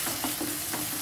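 Onion pieces and frozen green peas frying in a pan for tomato vegetable semiya upma, a steady close sizzle with soft stirring scrapes repeating a few times.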